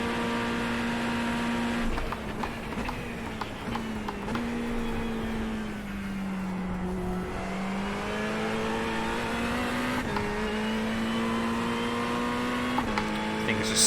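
A GT race car engine drones steadily at high revs on the Le Mans circuit in the iRacing sim, with pitch dipping and rising through gear changes and brief clicks, loud and continuous, with a voice talking over it.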